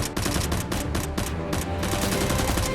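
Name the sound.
gunfire as SWAT members shoot back at the boss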